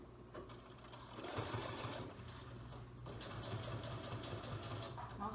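A sewing machine stitches gray fabric at a long 3.5 stitch length, running steadily and up close with a continuous whirring drone and a brief pause near the middle.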